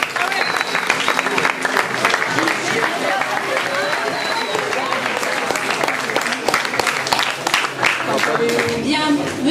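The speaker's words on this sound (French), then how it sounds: "Applaudissements pour les partenaires." Audience applauding the partners at La Ronde de l'Espoir 2012, a charity event at a lycée in La Grande Motte, with steady dense clapping and a crowd murmur throughout, loud and close.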